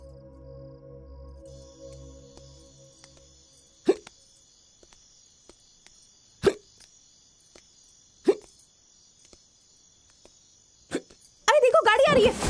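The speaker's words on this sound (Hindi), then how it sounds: "देखा, हिचकी बंद हो गई ना।" Hiccups in a film scene, four or five sharp, isolated hiccup bursts spaced a few seconds apart over a quiet background with a faint steady hum, ending with a short loud burst of noise.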